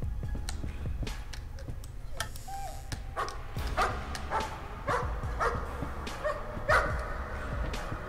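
A dog barks in the horror video game Layers of Fear, sharp yips and barks scattered irregularly over a ticking clock and a low ambient rumble, moderately loud and with no talk.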